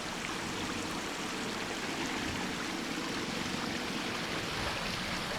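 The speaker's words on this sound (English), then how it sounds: "One of the unique obstacles is this little waterfall section." A small waterfall on an off-road trail pours in a steady, dense rush of water, loud and continuous with no talking.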